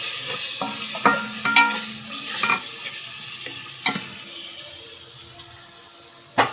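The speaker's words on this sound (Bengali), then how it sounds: "এবারে আমি মশলা কষানোর জন্য দিয়ে দিচ্ছি অল্প পরিমাণে পানি।" A little water added to a pan of frying salt, turmeric and chili powder spices, producing a hissing sizzle with intermittent clatters and knocks of a spoon against the pan, close and fairly quiet.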